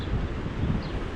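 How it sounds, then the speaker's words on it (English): Strong wind blowing through trees on a gusty day in Nebraska, a dense, continuous roaring rush with heavy low buffeting, loud and close, with no one speaking. "Can you hear that wind through the trees?"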